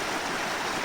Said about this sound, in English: the sound of this running water